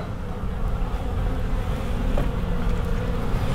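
Honey bees buzzing steadily around an open hive during an inspection, a dense, continuous drone filling the air close by with no talking.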